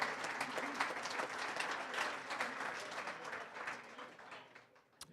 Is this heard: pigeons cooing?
no